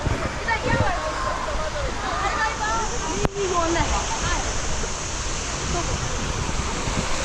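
Rushing water roars steadily on a water park rapids ride at Aqualand S'Arenal in Majorca, a dense continuous wash close by with one brief sharp knock midway, and voices faintly audible underneath.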